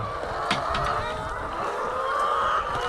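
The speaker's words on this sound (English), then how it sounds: "all the chickens will come swarming because it's hot and they want water" Free-ranging hens on a large flock farm cluck and murmur in a dense, steady chorus at moderate distance, with a few sharper calls standing out over the continuous flock noise.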